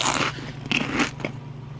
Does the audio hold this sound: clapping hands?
no